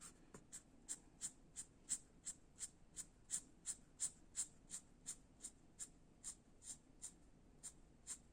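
Small strokes of colored pencil flick rhythmically across paper while shading a portrait, about twenty quick, evenly spaced scratches heard up close and alone.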